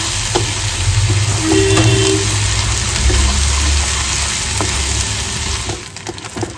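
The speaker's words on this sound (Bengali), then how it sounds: "আদা রসুনটাকে ভালো করে কষিয়ে নেবো" Ginger and garlic paste frying in a pan, a steady close sizzle with occasional stirring scrapes that runs throughout before fading slightly near the end, no speech.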